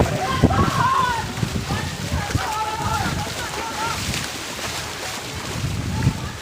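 Floodwater sloshes and splashes through a flooded house during a cyclone in Odisha, a continuous churning wash with gusty wind noise on the microphone, and voices talk faintly now and then.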